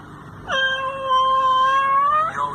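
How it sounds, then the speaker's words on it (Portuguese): A house cat gives one long, loud, drawn-out meow that rises and wavers, then ends in a shorter second cry, close by with no talking. "O gato tentou sair de casa e ficou muito triste que não conseguiu."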